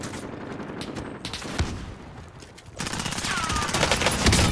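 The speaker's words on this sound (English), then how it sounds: "I'm taking fire!" Call of Duty gunfire on Rebirth Island, scattered shots and rattling bursts that thicken into sustained fire toward the end, with brief voice sounds in the mix.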